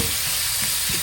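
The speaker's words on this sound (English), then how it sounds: "Stir fry it nicely until it's" Beef stir-frying in a hot pan with pepper and salt, a steady close sizzle and crackle running throughout with faint stirring scrapes.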